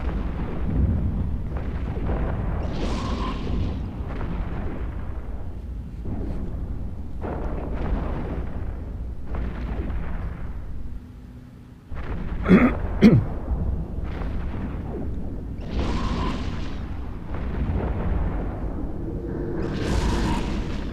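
Repeated heavy booms and explosions as a Tempest ship is destroyed in the video game EVE Echoes, with about a dozen separate blasts spaced a second or two apart, plus a sharper crackling burst midway.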